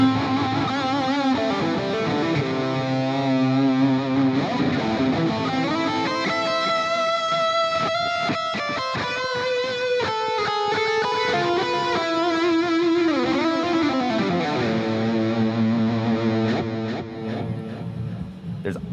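An electric guitar played through a Boss GT-1000 effects processor rings out with sustained chords and melodic lines shaped by effects, loud and continuous for nearly twenty seconds with no talk.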